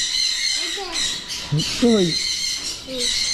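A large caged bird squawks several times at close range, harsh raspy calls in short bursts with pauses between, and people talk nearby.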